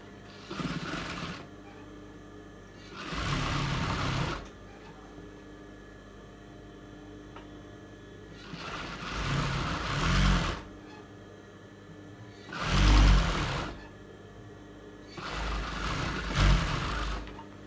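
A sewing machine stitches a folded hem on a chaddi in five separate short bursts of whirring, each a second or two long, with quiet pauses between them and no talking.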